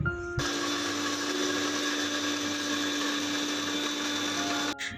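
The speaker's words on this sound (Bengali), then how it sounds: "ঠান্ডা হয়ে গেলে এই যে ব্লেন্ডারে নিয়ে আমি এটাকে একদম পাউডার ফর্মে করে নেব" A kitchen blender runs steadily for about four and a half seconds, grinding dry-roasted chickpeas and puffed rice into powder, with a loud whirring motor drone that starts and stops abruptly.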